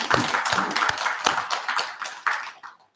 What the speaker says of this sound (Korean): 우리 자축하는 의미로 박수 한번 쳐요